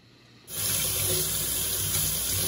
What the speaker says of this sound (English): And now I need to wash my hands and the eggs.